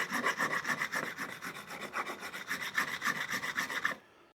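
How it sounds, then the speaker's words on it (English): Steel file rasping across guitar frets in steady back-and-forth strokes, close and loud, about ten quick passes before stopping abruptly. "You can feel where you need more work because you'll have more resistance on the file."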